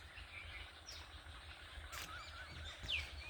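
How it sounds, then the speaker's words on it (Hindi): Birds call around a village natural farm house with vegetable plots, date palms and olive trees, faint scattered chirps and a few honk-like calls over a steady low rumble of outdoor background noise. "परिंदों की आवाज़ आप सुन रहे हैं, इनकी चहचहाट बहुत खूबसूरत है"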